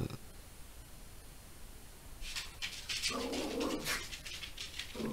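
A dog whimpering and whining nearby indoors, a run of soft high-pitched cries and coos lasting a few seconds over quiet room noise.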